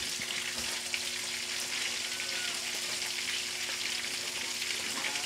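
Chicken pieces fry in a pan with a steady, dense sizzle and crackle of hot oil, close and continuous, with faint stirring and no talking.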